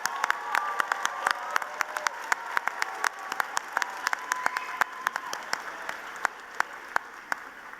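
Sustained applause from a graduation commencement audience at Longwood University, with dense, steady clapping that holds at an even level for the whole stretch, distinct hand claps popping out of the crowd.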